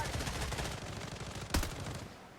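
Gunfire in the shooter game Blood Strike, rapid shots rattling faintly with one sharper crack near the end, under a low background.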